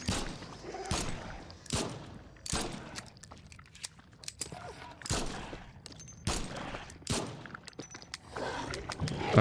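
Repeated gunshots ring out at uneven intervals in The Sinking City, single sharp reports with echoing tails, loud and close, mixed with faint clicks and handling noises.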